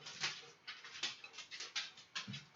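A dog whimpering and panting indoors, quick breathy pants mixed with thin high whines in an uneven rhythm, close but fairly quiet, with no talking.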